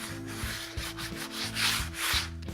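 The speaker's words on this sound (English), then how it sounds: "Just give it a nice light sanding." Steady back-and-forth rubbing of 220-grit sandpaper on wood, a soft rhythmic scratchy hiss in short strokes, close up and moderately quiet.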